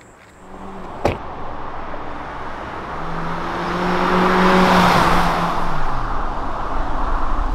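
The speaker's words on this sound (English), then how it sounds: "test drive this all new Hyundai Elantra" A 2021 Hyundai Elantra hybrid out on the road: a steady engine and road-noise drone that gradually swells louder as the car picks up speed, with a brief click near the start and no talk.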